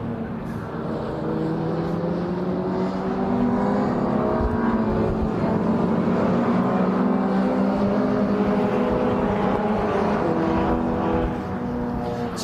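An MG Car Club race car drives past at Brands Hatch circuit, its engine a loud sustained drone with rising and falling pitch bands as it passes.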